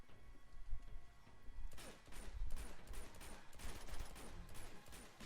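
Rapid AK rifle gunfire in a video game, loud bursts of shots in quick succession that start about two seconds in and continue in uneven volleys to the end.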